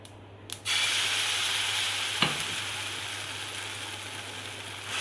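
Sooji chilla batter poured into hot oil with mustard seeds over medium gas flame, bursting into a loud, steady sizzle after a brief quiet start, with a sharp crackle partway through.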